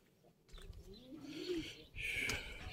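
Pigeons or doves cooing softly on a home balcony, a low murmuring coo rising and falling near the middle of the moment, with faint chirps and household background noise around it.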